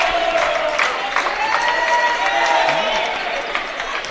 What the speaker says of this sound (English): the Chipola crowd enjoying this win